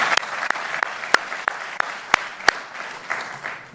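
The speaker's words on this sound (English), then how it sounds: "I should say save your applause" An audience at a New York speech event applauds steadily with a dense wash of clapping, a few sharp individual claps standing out near and loud.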